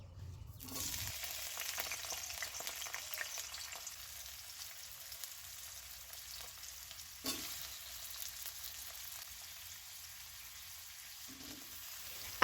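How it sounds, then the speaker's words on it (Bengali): Potatoes frying in hot mustard oil in a wok, a soft continuous sizzle heard close and alone after a quiet start, with a brief stir or clatter partway through. "সরিষা তেলটা গরম হয়ে গেলে প্রথমে আমি আলুগুলো ভেজে নেব।"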